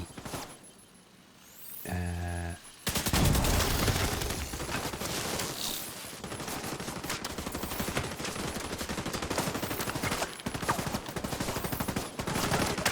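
Gunfire from the video game The Division 2 plays as rapid automatic bursts, dense and loud, following a brief rising electronic tone, continuous clatter nearly throughout.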